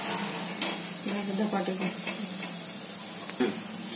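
Thick flatbreads of wheat and jowar flour roast on a hot pan with a close, steady sizzle and crackle, broken by a few sharp clinks and scrapes, while a voice talks faintly underneath.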